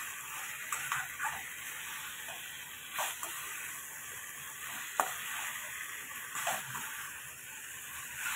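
Water hits hot frying masala for a jackfruit curry and sets off a steady, quiet sizzle and hiss, broken by a few sharper spattering pops.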